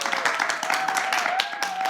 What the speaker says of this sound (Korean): 박수 쳐도 됩니다.